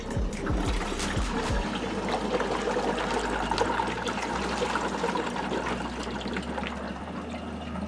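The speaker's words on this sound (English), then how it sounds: "you can hear a little bit of gurgling sound or air pressure being released" A pool sand filter gurgles steadily as trapped air pressure escapes, giving a continuous watery rush and trickle with a few low glugs at the start. It is close and even throughout, with no talking.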